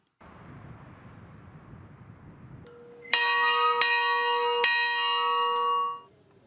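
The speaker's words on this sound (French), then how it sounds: "Trois coups de cloche." A church bell strikes three times, loud and ringing, each stroke overlapping the lingering hum of the last, after a stretch of low rumbling background noise.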